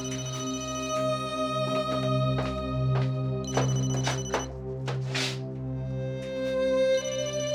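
A telephone rings steadily with a repeating electronic tone for several seconds in an indoor scene, with faint bumps and rustles in the background and no speech.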